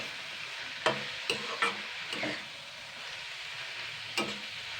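Winter vegetables for a vegetarian veg chop being stirred in a frying pan, giving a soft continuous sizzle with a few sharp scraping strokes of the spatula spaced irregularly, close and fairly quiet.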